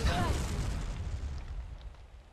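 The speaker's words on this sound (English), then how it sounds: "Cannon fire? Where's it coming from?" Cannon fire from a pirate-ship scene in Kingdom Hearts Birth By Sleep: a loud, deep boom opening the clip, then a long rumbling decay that fades over a couple of seconds.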